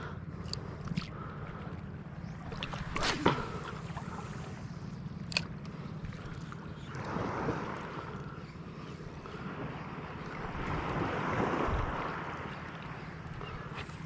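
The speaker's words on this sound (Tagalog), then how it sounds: "Medyo may gulong na ng alon sa part dito." Sea waves lapping and sloshing around a small fishing boat out on open water, a low continuous wash with gusts of wind and a few sharp knocks against the hull, fairly quiet overall.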